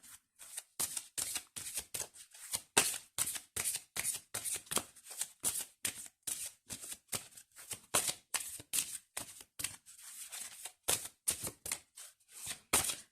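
A deck of oracle cards is riffled and shuffled over and over in quick, even bursts of crisp flapping, close and steady with no talking.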